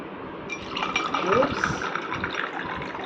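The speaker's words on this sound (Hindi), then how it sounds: "और अब हम पानी डाल देंगे।" Water pours into a glass holding ice cubes and kokum syrup, a short steady splash and fill with faint clinks of ice, under a voice speaking.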